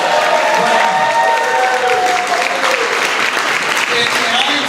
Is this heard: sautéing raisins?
no